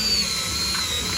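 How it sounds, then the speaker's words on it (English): A steady, loud whirring drone of a power drill running continuously while drilling a pilot hole, close by, with no speech. "I take a drill and I start a drill, put a pilot hole"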